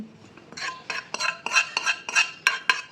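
Roasted black sesame seeds are spooned into a karjikayalu sweet stuffing mixture, giving a run of close, crisp clinks and scrapes of spoon against bowl in an uneven rhythm with no talk.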